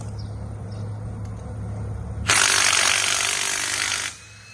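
A ratchet works long bolts out of a 2015 Kia Sorento 2.4 GDI engine during a teardown, giving one close, loud burst of rapid clicking for about two seconds over a quiet shop hum.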